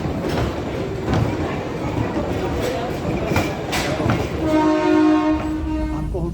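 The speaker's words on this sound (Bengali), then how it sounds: "একটা ট্রেন চলে এলো সামনে।" A train pulls into Shimla railway station with a steady rumble of wheels and carriages close by, and a sustained horn tone rising near the end, while people's voices carry faintly in the background.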